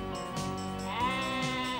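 A sheep out on a walk gives a couple of bleats, close by and plainly heard on their own with no talk over them.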